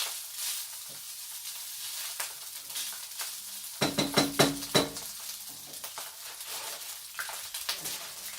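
Continuous hiss of food frying in oil, interrupted midway by a burst of metallic clinks and scraping from a utensil against the pan.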